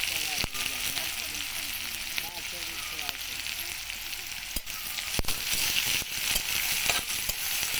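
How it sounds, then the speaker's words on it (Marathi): Chopped onion frying in a hot pan, with curry leaves already in the oil, gives a steady, close crackling sizzle. It carries on throughout with a few sharp pops and stirring clicks. "आता आपण थोडा कांदा टाकू"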